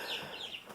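A hen being held gives brief, close clucking chirps in a short, soft burst.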